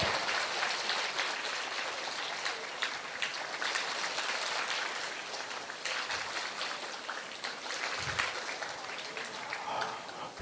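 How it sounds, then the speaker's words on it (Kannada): A student audience at a pre-university college inauguration ceremony claps continuously and loudly, a dense steady wash of applause held at full strength throughout. "ಚಪ್ಪಾಳೆ ಸೌಂಡ್ ಜೋರಾಗಬೇಕು"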